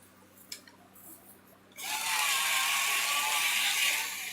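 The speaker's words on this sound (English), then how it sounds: "That's my grinder." A hand grinder turned in a home kitchen gives a steady, close whirring, ratcheting grind that starts abruptly after a quiet opening and continues loud and even to the end.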